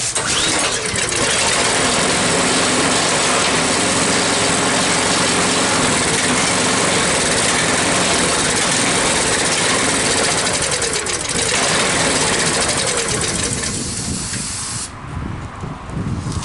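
A small engine running on fogging oil runs continuously with a loud, hissing, buzzing drone, sputtering and fading briefly near the end.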